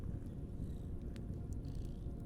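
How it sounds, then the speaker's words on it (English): A cat purrs softly and steadily in a quiet room by a fire, a low continuous rumble with no voices over it. "she listened to the cat's purrs become louder."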